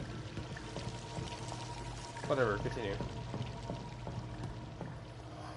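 Water pouring and trickling in a sewer inside a vampire video game, a steady low wash under a person talking briefly, with a faint repeating tone running through the background.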